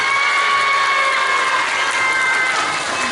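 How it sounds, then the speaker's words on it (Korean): Elementary school sixth graders clapping and cheering to welcome a guest lecturer in a school hall, a dense continuous burst of applause with shouts, loud and close throughout. "박수로 맞이해 주세요"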